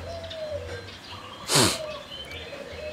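An anggungan dove coos in the morning while being misted with water, soft tonal calls repeating across the clip, broken midway by a short loud burst of spray or rustling, with no talking.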